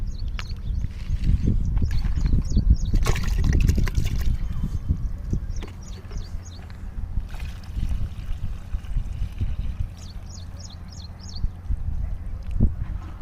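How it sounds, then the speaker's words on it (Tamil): Water poured from a can onto a newly planted Pongamia tree outdoors, a steady close splashing and trickling that swells and fades over several seconds, with birds chirping faintly in the background. "நம்ம 2வது புங்க மரத்துக்கு டோட்டலாக 10 லிட்டர் தண்ணி ஊற்றிருக்கோம்"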